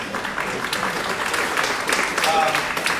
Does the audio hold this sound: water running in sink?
no